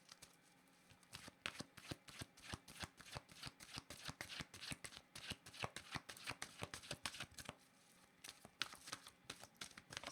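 Oracle cards shuffled by hand up close, a rapid run of crisp riffling flicks in bursts with a brief pause near the end, quiet and alone.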